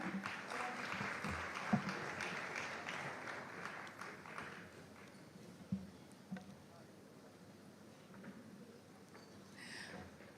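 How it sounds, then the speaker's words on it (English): Applause from an audience, a dense patter of clapping that is loudest at first and thins out gradually over several seconds. "a huge round of applause for them"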